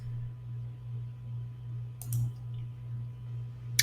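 A single mouse click on a button in Google Meet, sharp and close, over a low steady hum, followed near the end by another brief click, with no voices.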